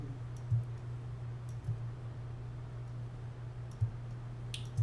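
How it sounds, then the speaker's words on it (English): Quiet computer keys clicking in a few sparse, light taps over a steady low electrical hum, close by, with no voices. "I'm just going to type out page 3, make it really big"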